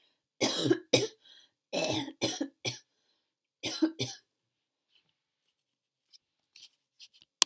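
A person coughs hard several times in wet, chesty bursts, clearing mucus, with short pauses between, then falls quiet apart from faint small clicks and breaths.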